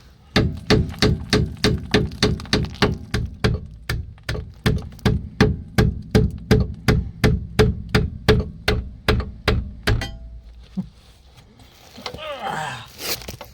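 About two dozen loud metallic hammer blows strike a 1998 Vauxhall Vectra B diesel handbrake part in steady rapid rhythm for ten seconds, then stop, followed by faint rustling and clatter.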